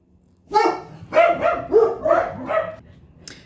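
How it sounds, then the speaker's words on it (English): A dog barks several times in quick succession in a home during a nail polish application, the barks loud and near, with a short pause between bursts and no talk over them. "we had a dog barking moment"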